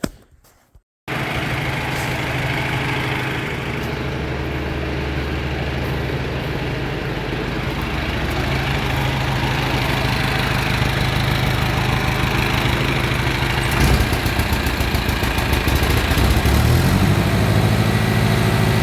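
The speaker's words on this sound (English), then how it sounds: "This is one of my favorite tractors we got." A tractor with about 7,300 hours on it idles steadily nearby, a continuous low engine rumble that starts abruptly after a second of silence and runs unbroken to the end, with no talk.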